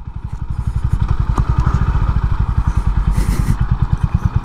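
Honda CB 350 H'ness motorcycle engine thumping at a steady, rapid single-cylinder beat while riding, close and loud, with no talking.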